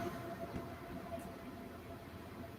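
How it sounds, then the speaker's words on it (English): A train passes as a continuous low rumble with a steady rolling texture, moderately loud and unbroken, with no voices. "a train going by day."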